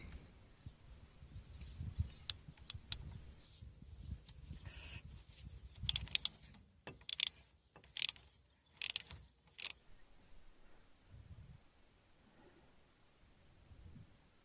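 Socket wrench working the shock absorber nut on a Peugeot 407 front strut, a burst of sharp metallic ratchet clicks and rattles in the middle, with quieter handling noise before and after.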